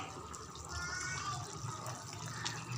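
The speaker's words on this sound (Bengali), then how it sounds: "ফুটছে" Chicken boiling in a pan on the stove, giving a steady, soft bubbling and watery hiss that runs close and even throughout, with no talk.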